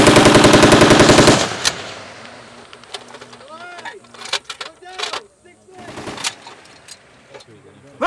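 M16 rifle fire during a Marine exercise: a loud sustained burst of rapid automatic fire at the start, then scattered sharper shots and shouting voices over an outdoor background.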